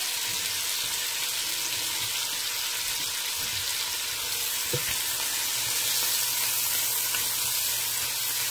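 Smothered chicken with carrots frying in a pan, giving a steady, moderately loud sizzle that runs throughout with a few faint stirring clicks and no talking.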